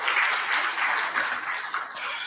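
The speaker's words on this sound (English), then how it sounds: "I think you deserve a round of applause for that." Audience applause at a stakeholder roadshow event, a short, steady burst of many hands clapping at moderate loudness with no talk over it.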